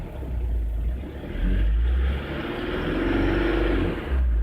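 A 2009 Ford Everest with a low-power complaint, heard up close as its engine revs up and drops back as the gas pedal is pressed and released, a steady mid-pitched hum rising and falling.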